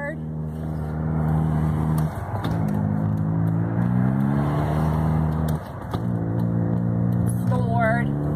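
A car engine revs hard and steadily with the accelerator floored on a downhill stretch, pitch rising and dropping twice as gears shift, with a voice speaking over it now and then.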